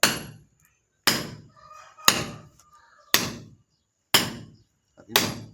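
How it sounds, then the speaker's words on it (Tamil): A hammer drives a chisel into a hard HFC block in six sharp, evenly spaced strikes about a second apart, each a loud close crack that quickly decays into silence. "உளி ஏறிட்டே இருக்கும், கல் உடஞ்சி வராது"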